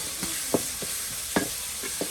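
Meat for haleem sautés in a pan with a constant background sizzle, broken by several sharp scraping strokes of a spatula at irregular intervals.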